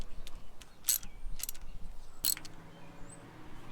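Socket wrench with a 17/32 socket ratcheting on a marine spark plug, a few short bursts of clicking spaced apart, close and fairly quiet with no talk.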